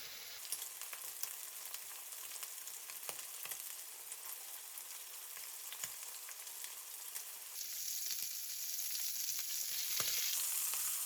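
Buffalo steak sears in hot oil with rosemary sprigs in a pan, giving a steady close sizzle and crackle with scattered pops, the frying growing brighter and louder toward the end.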